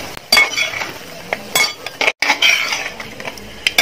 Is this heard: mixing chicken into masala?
yes